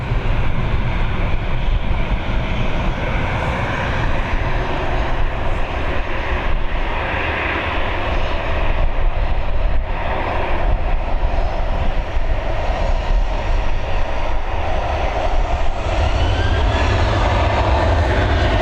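Engines of a Ryanair Boeing jet on runway 28L at Dublin Airport, a loud, sustained roar that holds steady and near throughout with no pauses and no voices.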